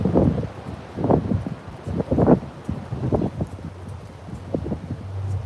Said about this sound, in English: Wind is stupidly ridiculous.